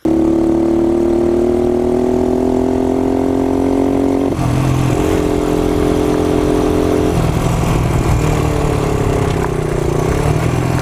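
A vintage motorcycle engine runs steadily and loudly up close with a droning hum, briefly changing pitch twice as the revs shift, with no talking over it.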